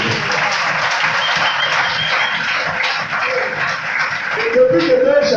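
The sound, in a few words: congregation applauding God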